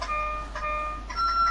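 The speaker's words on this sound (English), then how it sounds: "I'm playing my keyboard." Child pressing sustained notes on an electronic keyboard at home, a few thin steady tones with short gaps, faint against room noise.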